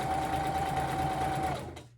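A sewing machine hums steadily near the edge of hair scrunchie fabric, close and even, then winds down and stops near the end.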